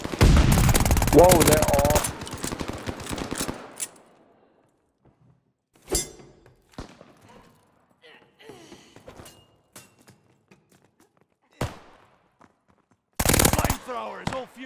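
A machine pistol in a video game fires a dense, rapid burst for about two seconds. Scattered quieter shots and thumps follow, then another short, loud burst near the end. Someone speaks briefly in between.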